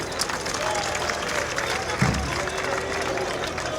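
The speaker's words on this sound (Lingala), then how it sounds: "Yango wana nasengi na bino moko bobeta maboko mpona volonté." A crowd at a political rally for Moïse Katumbi keeps up a steady wash of applause while someone speaks over it.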